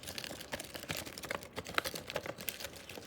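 The keys of a keyboard fidget toy are pressed in rapid, irregular clacking taps, close and busy throughout like fast typing.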